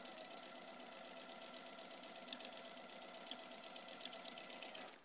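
A sewing machine with a slightly dull needle stitches quilt-block fabric in a continuous, quiet mechanical whir, small periodic taps marking the needle entering the cloth, steady throughout with no speech.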